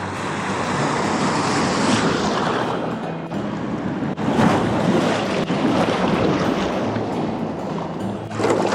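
Winter waves on Korea's East Sea coast surge and crash continuously onto the shore at dawn, a loud, broad wash of surf with rolling swells and wind buffeting the microphone, no voices.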